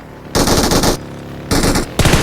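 Loud bursts of rapid automatic gunfire from a gun in a video game, three separate volleys with short pauses between them, close and dominant with no talking over them.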